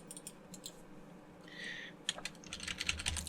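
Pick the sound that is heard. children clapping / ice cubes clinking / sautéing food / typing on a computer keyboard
typing on a computer keyboard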